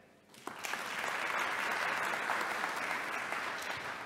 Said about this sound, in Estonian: Ja teeme ühe aplausiga doktorikraadi kaitsnutele